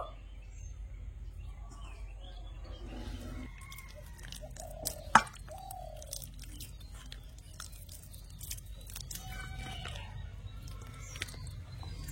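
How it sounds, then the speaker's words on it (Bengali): Ripe peeled bananas are mashed by hand into a smooth pulp, producing faint, soft wet squishing and squelching sounds at close range, with occasional birdsong in the background. "এবারে এই কলাগুলো ভালো করে কচলে একদম মানে মিহি করে নেব।"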